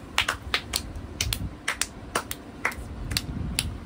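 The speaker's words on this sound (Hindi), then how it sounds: "बच्चा ताली बजा रहा" A child claps at a small anniversary celebration, making sharp, bright, close slaps in an uneven run of roughly a dozen, some in quick pairs, over a quiet room.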